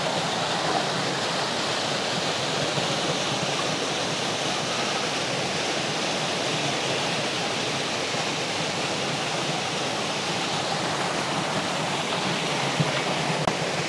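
A rushing waterfall at Talon Kamandag in Cavite, heard from the top of the falls: a steady, dense broadband roar of water that stays constant throughout with no voices.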